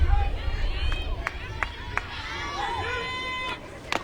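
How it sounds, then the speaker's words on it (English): A softball crowd at an NCAA game between Mississippi State and Kentucky keeps up a steady murmur of chatter and cheering after a home run, with scattered claps and whistles over a broad, continuous stadium hum. "this crowd still buzzing after seeing Abby Cheek hit that home run"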